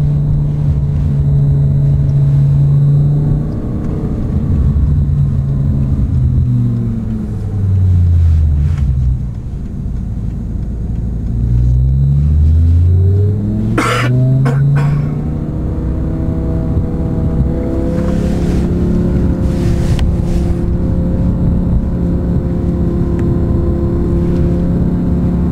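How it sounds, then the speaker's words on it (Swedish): A Kelleners-tuned BMW M5 and a Ferrari F430 accelerate hard from 50 km/h, with loud, sustained engine roar whose pitch climbs, dips through gear changes and rises again. "Kelleners M5 versus Ferrari F430."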